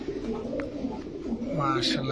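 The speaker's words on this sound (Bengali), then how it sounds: "দেখেন দর্শক কবুতরগুলো" Big Rampuri, racer and gola pigeons coo in a low, steady, rolling murmur close by, with a brief higher chirp near the end.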